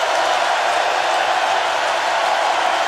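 Stadium crowd at a college football game between Bowling Green and Tennessee, a dense, steady roar of many voices, loud and continuous with no distinct speech.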